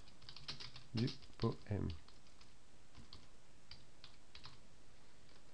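Keystrokes on a computer keyboard come as scattered quiet clicks with a brief flurry of typing, heard faintly under a person speaking.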